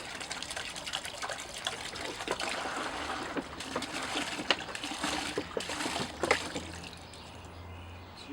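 Water poured from a gallon measuring container into a bucket for aircrete foam, a steady splashing gush for several seconds that tapers off at the end, with no talk.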